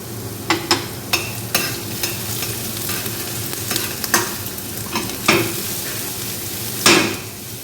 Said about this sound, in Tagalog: Garlic at ginger.